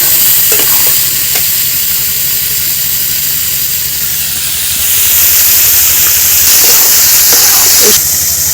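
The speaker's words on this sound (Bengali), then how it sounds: "কিছুক্ষণ তেলের উপরে আমি এইভাবে কষে নেব।" Jujube (kul) pickle stir-frying in oil on a low flame, a loud steady hiss and sizzle close up, with a few spoon scrapes and knocks against the pan.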